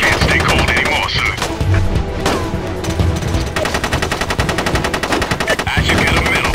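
Rapid automatic gunfire in the shooter SOCOM U.S. Navy SEALs: Fireteam Bravo 2, loud sustained bursts rattling almost continuously over a dense game soundtrack.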